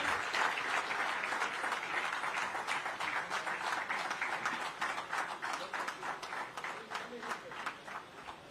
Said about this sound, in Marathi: टाळ्यांचा जो गडगडाट आहे तो आपण सर्वांनी सुरू ठेवायचा आहे